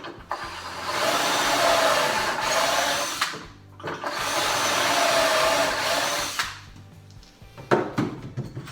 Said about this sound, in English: Clamp that on there. Make some pocket holes.